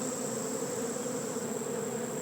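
A swarm of honeybees hums in a steady, dense drone that holds unbroken and fairly close throughout, with no voices over it.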